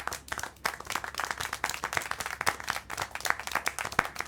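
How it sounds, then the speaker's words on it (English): In-game clapping in the adventure game Syberia: The World Before, a moderate run of quick, fairly even hand claps from a small group, steady for several seconds with slight room reverberation and no speech. "How can you clap?"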